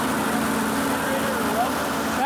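A Minneapolis Moline G1000 tractor engine with straight pipe exhaust runs at a steady idle, giving a continuous close-up exhaust drone with an even low throb throughout.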